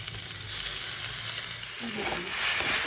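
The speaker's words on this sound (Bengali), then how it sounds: "এর সাথে এই কেটে রাখা টমেটোগুলো আমি দিয়ে দেবো।" Chopped tomatoes hit a pan of frying turmeric, cumin and chilli spices, producing a loud, unbroken sizzle that swells slightly toward the end.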